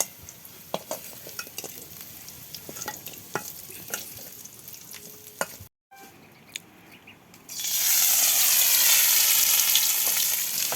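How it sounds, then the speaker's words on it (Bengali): Pieces of elephant foot yam fry in hot oil, with scattered clicks of stirring, a brief pause, then a loud, steady hiss as fresh pieces hit the oil and sizzle strongly. "এগুলো সব এখন একে একে ভাজি করে নেবে।"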